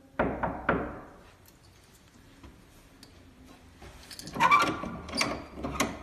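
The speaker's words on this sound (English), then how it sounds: "we need to knock on the door 3 times" Three quick knocks on a hotel guest room door, close and sharp, followed after a pause by a housekeeper calling out loudly.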